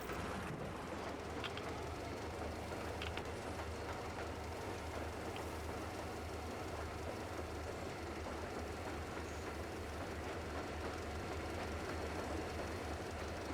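A train in the video game Metro Exodus rumbles continuously, with a low rolling drone and faint rhythmic clatter throughout, and no one speaks.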